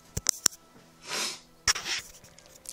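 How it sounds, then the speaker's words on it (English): A close, breathy sneeze bursts out after a few sharp clicks and a sharp inhale, followed by a second quick sneezing exhale and sniffing. "I have to sneeze again."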